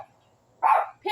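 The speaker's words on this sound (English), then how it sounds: "Stop barking." A dog in a park full of cats lets out a short, loud bark up close, and a brief voiced sound follows right after.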